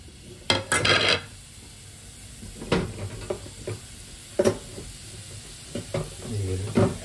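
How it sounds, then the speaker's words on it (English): Shimeji brown mushrooms are tempered in a little hot oil, with scraping stirs and clinking against the pan over a low sizzle. A voice is faintly audible at times. "we put a little bit of oil, and then on the oil we are going to temper the mushroom"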